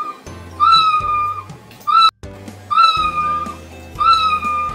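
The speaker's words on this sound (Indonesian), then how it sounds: "Jika kucing menyentuh pinggir, maka mulai suara meow." The Scratch cat sprite's meow sound effect plays about four times in a row, each a clear, close, whistly meow separated by brief pauses.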